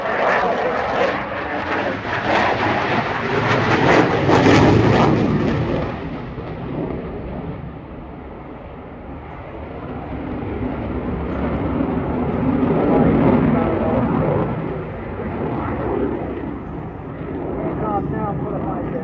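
A Eurofighter Typhoon twin-role fighter jet flying at the Eastbourne air show in 2023 gives a loud, sustained roar that swells, dips and swells again. A commentator talks over it throughout.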